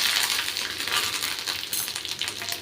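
Curry leaves crackle and sizzle steadily in hot ghee during a tempering, a loud, dense, continuous frying hiss close up with no voices.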